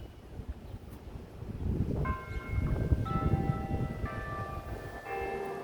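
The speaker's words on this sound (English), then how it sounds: "You can hear the sound of the church bells ringing." Church bells ringing from a nearby church, several tolling strikes sounding moderately distant over soft wind and outdoor ambience, with no talk.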